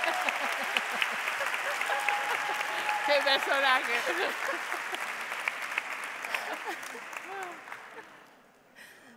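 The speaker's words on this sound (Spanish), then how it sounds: "¿Podríais aplaudirle?" Audience applause in a conference hall during a talk, a steady mass of clapping running for several seconds under a voice calling out and cheering, fading toward the end.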